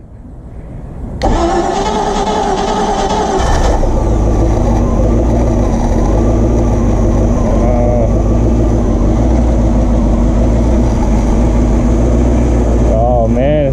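A Crownline boat's new small-block Chevy engine cranks and starts, then runs loud and close with a steady mid-pitched rumble, revving slightly near the end.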